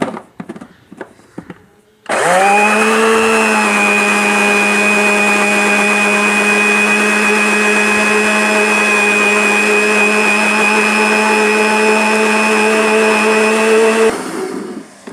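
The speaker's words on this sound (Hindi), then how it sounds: "अच्छी तरह ब्लेंडर में घुमा लें।" A blender grinding mint and coriander chutney with water roars loudly and continuously for about twelve seconds, a steady high-pitched motor whir close by, before cutting off.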